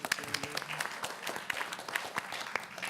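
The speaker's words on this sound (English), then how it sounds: "Let's get an applause for Randy." Audience applause after a talk on human factors, a dense patter of many hands clapping at moderate volume, fairly near and steady for about three seconds with no voices over it.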